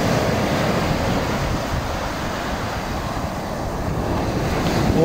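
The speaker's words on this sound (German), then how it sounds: "da knallen die Wellen auch ganz schön." Surf rolling in continuously at a Gazipasa beach near a beach bar, a steady broad wash of breaking waves with some wind buffeting the microphone, loud and close with no talking.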